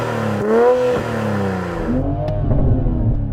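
A powerful Toyota Supra engine revs up and down twice, pitch rising and falling sharply, loud and close with no talking.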